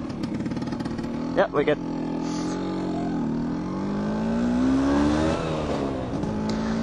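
A Vespa PX200 scooter engine hums steadily while riding, with the pitch rising and falling as the throttle changes. A voice speaks briefly near the start over the engine noise.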